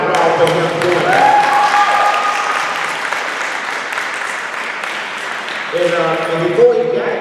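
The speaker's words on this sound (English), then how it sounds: "let's give a round of applause for him doing that" Audience applause at a Dallas community event, steady clapping from a gathered crowd, with voices and cheering rising over it near the end.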